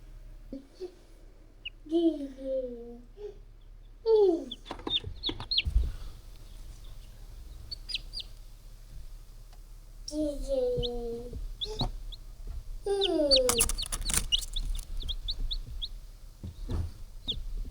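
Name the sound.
baby chickens clucking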